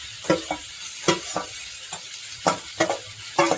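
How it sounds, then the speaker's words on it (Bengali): Mustard seeds, curry leaves, cumin, green chilli and ginger sizzle in hot oil while a spatula stirs, giving a bed of crackle broken by repeated short scraping strokes at an uneven rhythm. "ওখানে আমি দিচ্ছি একটু সর্ষে, কারি পাতা আর জিরে, একটা কাঁচা লঙ্কা, একটু আদা"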